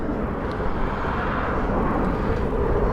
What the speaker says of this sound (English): What fast jets we have above us.